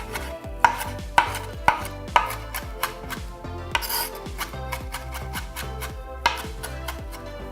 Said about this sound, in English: So we'll just grab some fresh parsley and just roughly chop it.